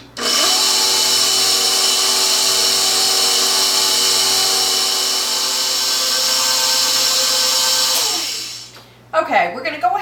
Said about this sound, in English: we're going to add this in before we turn on the mixer